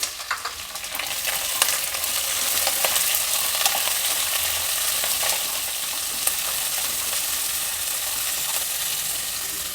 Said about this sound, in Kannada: ಕರಿಬೇವಿನ ಸೊಪ್ಪು ಈರುಳ್ಳಿ ಉದ್ದುದ್ದ ಹಚ್ಚಿಟ್ಕೊಂಡಿರೋ ಎರಡು ಮೀಡಿಯಮ್ ಸೈಜಿನ ಈರುಳ್ಳಿ ಹಾಕಿದ್ದೀನಿ